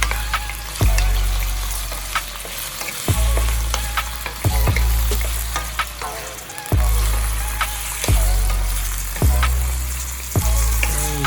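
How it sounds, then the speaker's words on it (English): Shrimp stir-fry in a hot pan for fried rice, a loud, close, steady sizzle broken every couple of seconds by heavy thumps and scrapes of the spatula tossing them. "put in your shrimp first. And go ahead and give it a good stir fry."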